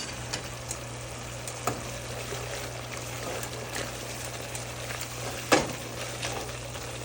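Ground spices including cumin and chili powder fry in a pan for a chicken curry with taro, a soft steady sizzle under a low hum, with a few light clicks and one sharp knock near the end.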